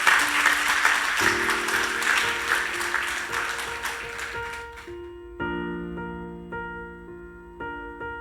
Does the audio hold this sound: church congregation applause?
yes